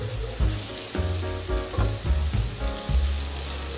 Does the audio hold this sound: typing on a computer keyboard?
no